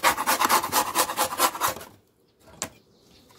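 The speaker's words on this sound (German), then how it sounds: "Und jetzt putze ich das Propolis extra weg." Propolis is scraped off beehive parts with quick rhythmic rubbing strokes, close and crisp for about two seconds, then quiet apart from a single sharp scrape.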